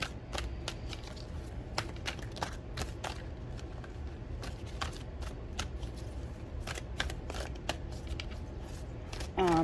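Tarot cards shuffled up close, making a steady run of crisp snapping riffles and taps over a low background hum for nearly ten seconds.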